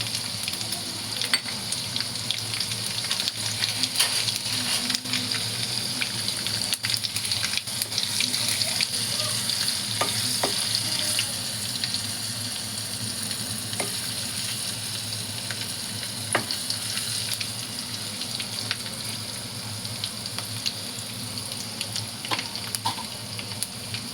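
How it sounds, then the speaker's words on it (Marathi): Garlic fries in a pan while pithla, a gram-flour dish, is being made, giving a steady, close hiss of sizzling oil with scattered small pops and faint clinks throughout. "लसूण टाकते. लसूण चांगला लाल होऊन द्यायचा."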